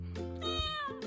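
A cat on a cold night without the electric blanket lets out loud, drawn-out, angry meows, close by, one long complaining yowl after another with a short pause between.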